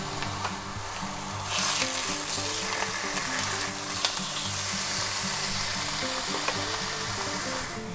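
Slices of pre-cooked smoked ham fry in a pan with a steady, close crackling sizzle that swells slightly partway through, with occasional light utensil taps and no voices.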